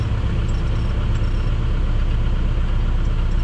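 A 10-inch grain auger runs with its power sweep engaged in a grain bin, giving a steady, loud, low mechanical drone and rumble that holds constant throughout with no talk.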